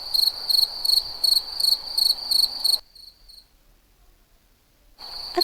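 A cricket chirps in a shrill, rapid pulsing trill with an even rhythm, close and clear. It falls silent for about two seconds, then starts again.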